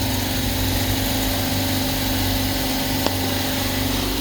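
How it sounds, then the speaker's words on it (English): A 2012 Mercedes CLS 63 with 137,000 km idles close by, a steady rumbling drone with a constant low throb and no pauses or revving throughout. "The straight 8, it starts."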